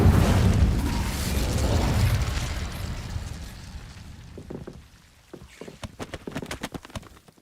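Confringo and Incendio spell blasts in the Hogwarts Legacy video game: a loud, rumbling burst that fades over several seconds, followed by a rapid series of sharp crackling pops and impacts.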